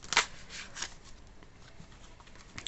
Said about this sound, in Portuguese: Barulhinho gostoso de embaralhar, né, gente?